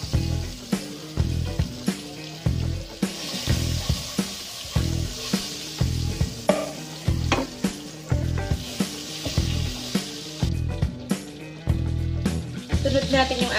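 Butter sizzling and frying in a pan for carbonara sauce, with rhythmic stirring scrapes and clinks repeating throughout, close and fairly quiet.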